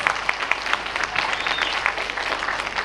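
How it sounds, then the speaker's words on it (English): Audience applause at Lannaman's Preparatory School 2026 graduation exercise, a steady wash of many hands clapping throughout, moderately loud and even. "Please give them a round of applause"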